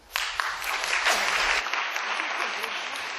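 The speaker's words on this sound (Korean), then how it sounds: "큰 박수 부탁드리겠습니다." Audience applause breaks out after a lecture at a corporate and arts open forum, a dense, sustained clapping wash from a sizable crowd that holds steady for several seconds without talk.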